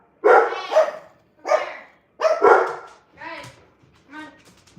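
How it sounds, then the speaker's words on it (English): Several dogs bark in a rapid series of loud, close yips and barks, about six bursts in a row with brief pauses between them. "Insert dog noises."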